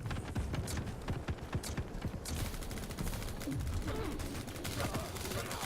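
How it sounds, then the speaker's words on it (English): Nail gun in Quake Champions firing in rapid bursts of sharp clattering shots, dense and continuous, close and fairly loud alongside other game noises. "Let's try the nail gun."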